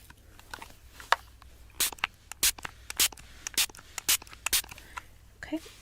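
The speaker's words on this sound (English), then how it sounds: "Just going to spray this all on the nails." Short bursts of clear nail soap sprayed onto fingernails, a string of about ten close, crisp hissing pumps in an irregular rhythm with quiet handling noises between them.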